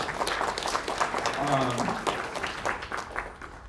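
An audience at a tech demo night applauds after a presentation, a dense spread of clapping with a voice speaking briefly over it midway, fading somewhat at the close.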